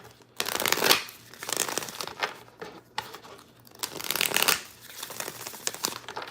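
Oracle cards being shuffled by hand, giving a run of crisp riffling and sliding bursts in uneven clusters, close and fairly quiet, with no voice over them.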